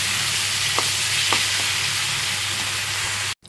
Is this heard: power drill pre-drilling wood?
no